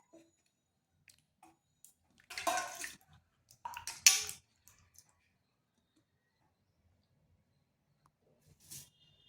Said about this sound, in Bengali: এরপর এগুলোকে ভালো করে আরেকবার ধুয়ে নিচ্ছি।